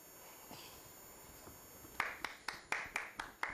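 Audience clapping at an award ceremony, at first a few faint scattered claps, then a series of about eight sharp, close, evenly spaced claps with brief gaps between them.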